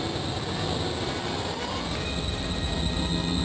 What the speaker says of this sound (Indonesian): ada kereta yang muncul dari belakang yang menembus mereka